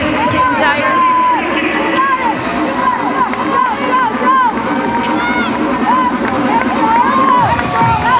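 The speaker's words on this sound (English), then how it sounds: "Fellow competitors just cheering her" Fellow competitors cheer an athlete at a women's regional fitness competition event, a loud, continuous crowd of shouts and whoops mixed with speech.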